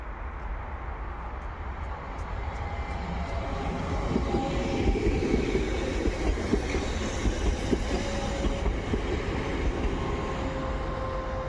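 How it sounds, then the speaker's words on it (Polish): A passenger train passes near Katowice Zawodzie in winter, a continuous loud rumble and rolling roar that swells slightly midway and holds steady without a break. "I mamy ostatni pociąg na tym filmie"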